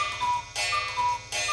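A cuckoo clock sounds off indoors in a repeating two-note pattern with bright chiming bursts over a steady ticking background, loud and close with no voices.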